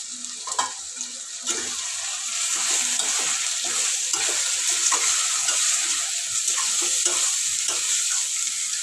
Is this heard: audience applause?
no